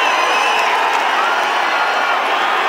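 A stadium crowd at the 2018 India vs West Indies second Test cricket match keeps up a loud, continuous roar of cheering.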